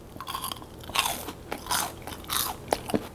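Crisp, close bites and chewing of breadcrumb-coated fried cuttlefish dipped in tteokbokki sauce, several sharp crunches in quick succession with no talking.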